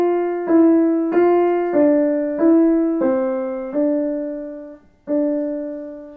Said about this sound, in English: Gregorian chant from the 13th century